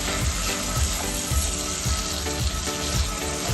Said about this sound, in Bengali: গ্যাসের ফ্লেম একদম মিডিয়াম করে মশলাটাকে কষাতে হবে